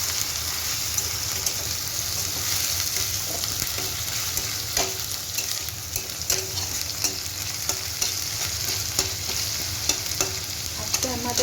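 Onion paste fries in oil for a katla fish curry, a dense close sizzle with frequent scraping and clacking of a spatula as it is stirred, steady throughout without speech.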